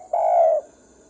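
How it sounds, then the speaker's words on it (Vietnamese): A single dove-like coo, about half a second long, played loud and clear through a bird-trapping loudspeaker, with nothing else around it. "tiếng chim đầy đủ cho anh em coi nhé"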